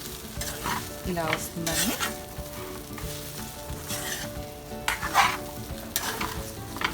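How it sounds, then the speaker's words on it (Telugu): Flattened rice upma being stirred in a hot pan, a spoon scraping and clinking steadily over a continuous close sizzle of frying, with a short bit of talk partway through. "బాగా ఇలా కలిసే వరకు కలియబెట్టేస్తే"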